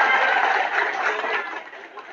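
Audience applause in a mosque gathering in Natal, North Sumatra, following a recited pantun, a dense steady clapping from a crowd that carries on for about two seconds and thins slightly toward the end.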